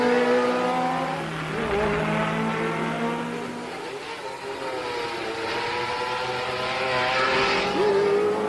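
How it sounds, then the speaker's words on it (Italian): Porsche 908 and Alfa Romeo Tipo 33 sports prototypes racing on the open-road Targa Florio course in 1971, a steady loud engine roar with shifting revving tones as the cars pass and accelerate. "La Porsche di Elford La Russe e quella di Rodriguez e Müller"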